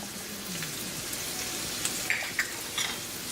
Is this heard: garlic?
yes